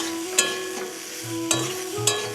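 Banana flower mixture being stirred and fried in a pan, with a steady faint sizzle broken by three distinct scraping strokes of the spoon, close up and with no talking.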